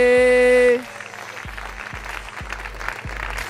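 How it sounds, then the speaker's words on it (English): A comedy club audience in San Francisco applauds steadily after a loud sustained tone cuts off, with a regular low thumping beat running beneath the clapping. "All right, keep clapping, you guys."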